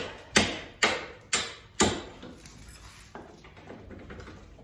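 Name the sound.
tapping a bolt through with a hammer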